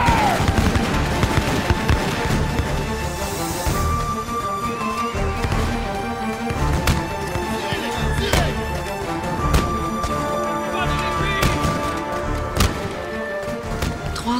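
Battle sound effects for the 1837 rebellion at Saint-Denis, with scattered sharp gunshot cracks and clatter over a dense, busy layer of sound, loud and continuous throughout.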